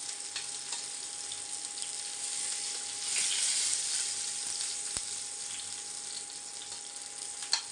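Tomatoes fry in hot oil in a pan with a steady, close sizzle that holds throughout, swelling slightly midway, with a faint clink near the end.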